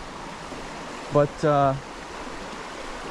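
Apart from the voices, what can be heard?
small shallow river flowing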